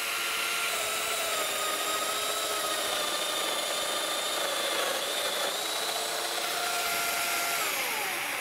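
A woodworking power tool cuts a mortise in wood, a loud continuous motor whine with a steady pitch that dips slightly as the cutter bites, running alongside a dust extractor.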